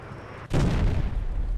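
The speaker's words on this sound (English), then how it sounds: "The sound of the ATGM sounds better." ATGM missile launch from a French AMX-30B2 Brenus tank in the War Thunder video game: a sudden loud boom followed by a sustained rushing roar, close and with no talk.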